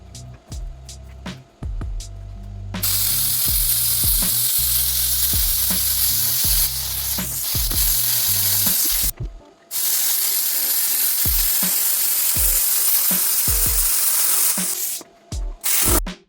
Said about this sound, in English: cut this sheet, just across, so that I can have this ready for, the next video, making the welding table